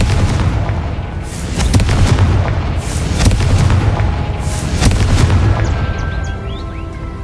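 The Confringo explosion spell going off in the Hogwarts Legacy video game, heard as loud, sustained rumbling booms with bursts and crackles layered over a continuous roar, with a few faint whistling tones toward the end.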